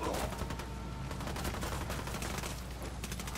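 Enemy gunfire in Ghost Recon Wildlands crackles in rapid, continuous bursts at moderate distance, a steady stream of shots without pause.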